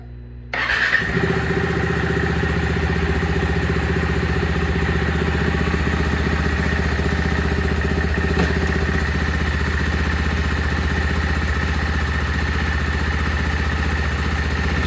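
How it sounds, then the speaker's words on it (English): A motorcycle propped up on its stand fires up after a short crank and then settles into a steady, loud idle that runs close by without pause, with no voices over it. "with the bike up on the stand, I'm just gonna come and start it"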